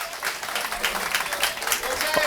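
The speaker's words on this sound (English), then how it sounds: "Why don't y'all give him a round of applause right there?" A crowd at an athletics gathering applauds a returning retired coach, with a dense patter of clapping for a couple of seconds and voices mixed in.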